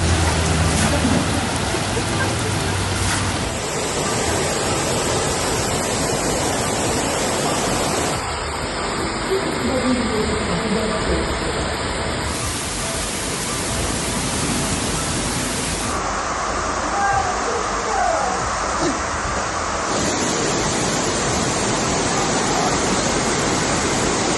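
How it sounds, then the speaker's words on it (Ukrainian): Floodwater rushes through the Polish town of Stronie Śląskie after a dam breach, a continuous loud roaring wash across several abrupt cuts between shots. "Прорвало дамбу у польському Строне-Шльонській, місто йде під воду"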